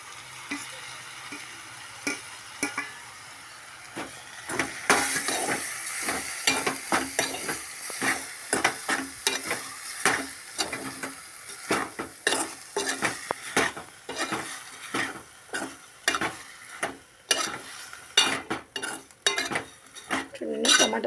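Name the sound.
okra (ladies finger) frying and being stirred in a pan with tomato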